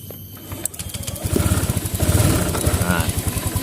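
A fuel-injected motorcycle engine idles with a steady low putter, then revs unevenly when throttled and falters, with a voice talking nearby.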